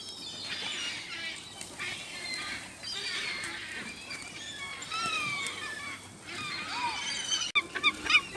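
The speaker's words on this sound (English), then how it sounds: "I'm actually surrounded by seagulls right now. And pigeons." Seagulls and pigeons crowd around broken bread in a city park, with wings flapping and gull cries rising in scattered bursts at moderate distance, fairly faint, with a sharp click near the end.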